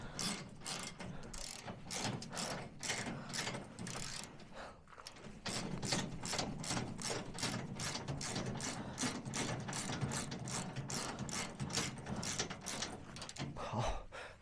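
Ratchet wrench clicking steadily as bolts are tightened during a roadside repair on a broken-down RV in remote high-altitude wilderness at 4600 m, rapid repeated pawl clicks continuing close and loud throughout.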